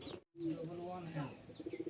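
Rajshahi Giribaz flying pigeons coo near the microphone, a series of soft throaty tonal calls with a rhythmic pulsing pattern toward the end, following a brief silent gap.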